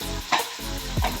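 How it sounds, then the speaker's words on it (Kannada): Onion and curry leaves frying in oil in a pan, a soft continuous sizzle with two short stirring scrapes, close and fairly quiet. "ಚೆನ್ನಾಗಿ ಫ್ರೈ ಮಾಡ್ಕೊಬೇಕು."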